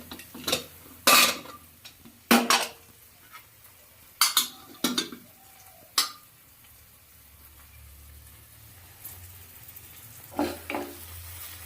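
Boiled small potatoes and spices are stirred and sautéed in a pan, with sharp intermittent spatula scrapes and clinks over a soft sizzle, close by, trailing into a quieter stretch of gentle frying before a final pair of scrapes; no speech.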